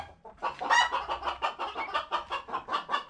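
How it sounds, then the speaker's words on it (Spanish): A hen cackles loudly and repeatedly in rapid bursts after laying an egg, a steady run of excited clucks close by with no talking. "ahorita acaba de poner una gallina y está tan escandalosa"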